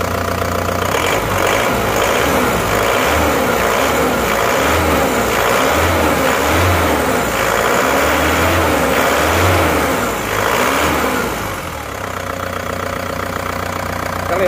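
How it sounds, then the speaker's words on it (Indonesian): An Isuzu Panther's cold engine revs up repeatedly in rhythmic bursts over a steady idle, loud and close, then settles back down near the end. "Bagus, suara mesin juga rata."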